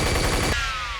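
Minigun primary fire from the video game Unreal, a dense, continuous rattle of rapid shots that cuts off halfway, leaving a descending mechanical whine as the barrels spin down.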